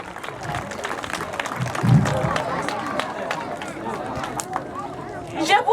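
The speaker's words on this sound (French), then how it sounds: "Applaudissez pour elle" A children's contest show audience claps for a young girl, with a dense patter of many hands and crowd chatter mixed with a voice talking over it.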